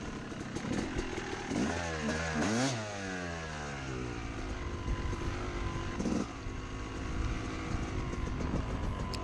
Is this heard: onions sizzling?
no